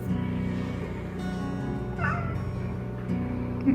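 A house cat meows for food near the box where her food is kept, a couple of close, insistent calls over a steady low household hum.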